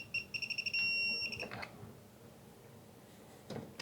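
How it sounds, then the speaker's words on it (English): Programmable torque screwdriver tightening an inverter output connection, giving a quick series of short electronic beeps followed by a held tone, then faint handling clicks in a quiet room. "it just beeps at you when it's tight."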